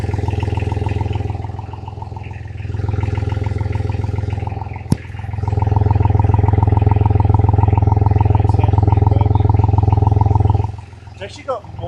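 A Spartan VM1000 engine idles with a steady, loud, low mechanical drone. It dips briefly after two seconds, then a sharp click sounds, and the idle carries on evenly until it cuts out near the end.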